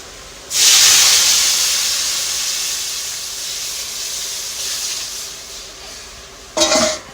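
Lentils (dal) hit hot oil with a sudden loud hiss at the start, the sizzle slowly easing off over several seconds, followed by a brief sharp clatter near the end.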